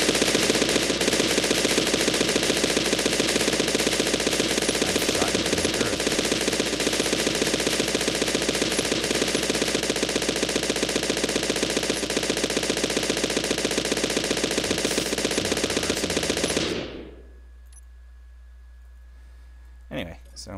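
An autocannon turret in the Space Engineers video game fires a dense, continuous rattling burst for about seventeen seconds, then cuts off abruptly into near silence with a faint click.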